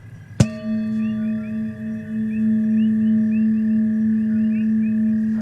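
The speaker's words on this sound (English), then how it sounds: "this bowl is the third eye chakra, and it sounds like this" A third eye chakra singing bowl is struck once, then rings on in a long, steady, shimmering tone with slow wavering beats, close and alone.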